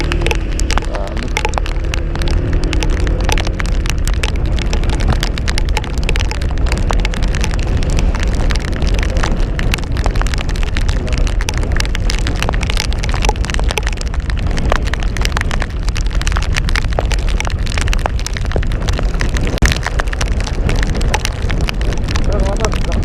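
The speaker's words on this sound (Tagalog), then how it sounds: "lakas ng ulan" Heavy rain pours down steadily and loudly on a road trip from Caticlan in Aklan, a dense continuous patter with scattered sharp drops and a faint voice underneath.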